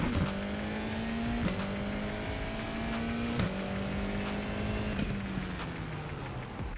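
Race car engine in a racing simulator game, revving at steady high pitch with repeated gear-shift dips at regular intervals, loud and close, then easing down at the end; no talking.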